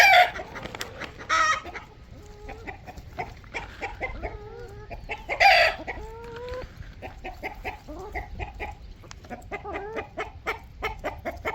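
Meat chickens out on grass clucking busily up close, a dense run of short chattering clucks with a few louder squawks, steady throughout with quiet gaps between bursts.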